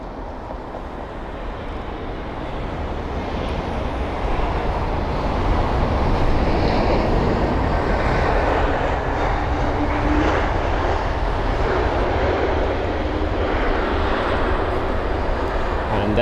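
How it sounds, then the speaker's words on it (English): An Aegean Airbus A321neo arriving at London Heathrow makes a loud, continuous broadband roar that swells and holds steady throughout, with no voices. "So Aegean operating the A321neos here at London Heathrow"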